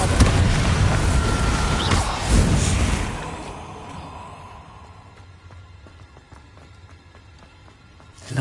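A loud Bombarda spell blast from Hogwarts Legacy booms up front and then rumbles away into a quiet tail, ending with a short sharp hit.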